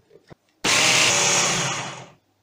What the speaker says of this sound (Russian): и перемаливаем.